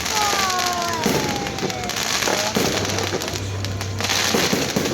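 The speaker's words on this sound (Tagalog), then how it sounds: "There are too many fireworks!" Repeated fireworks bursts and crackling pops over a steady outdoor rumble, with whistling streaks rising and voices chattering in the background, at a New Year's celebration.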